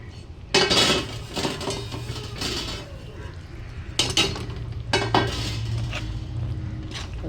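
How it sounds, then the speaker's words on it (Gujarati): Ground sesame powder stirred into melted jaggery in a metal pan while making soft sesame chikki, with a spoon clinking and scraping against the pan in loud, irregular strokes. "હવે આ તલનો ભૂકો કર્યો ને એ નાખી દેવાનો."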